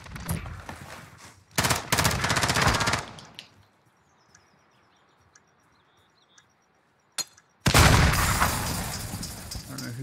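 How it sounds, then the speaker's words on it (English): A grenade goes off in a first-person shooter Search and Destroy match: loud, booming blasts with crackling gunfire arrive in two heavy bursts, separated by a quiet stretch with a few small clicks. "I don't know whose grenade that was"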